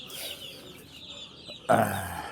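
Pullet chickens cluck in a short, close burst near the end, after a stretch of quieter background farmyard noise.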